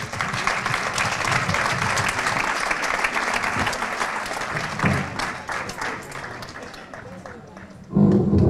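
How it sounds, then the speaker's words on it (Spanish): A crowd at a children's and youth folklore festival applauds warmly, a dense run of clapping that tapers slightly before a voice breaks in near the end. "recibamos con un fortísimo aplauso a La Mantellina"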